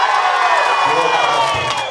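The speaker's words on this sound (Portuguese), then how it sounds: "Para o delírio da torcida da Vivaldinos, que vibrava a cada resultado" Supporters of the Vivaldinos samba school roar and cheer at the carnival results count, a loud, dense crowd din with shrill shouts rising over the steady swell and people talking within it.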